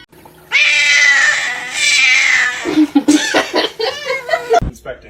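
A kitten lets out two long, loud, drawn-out meows close by, followed by people laughing and chattering.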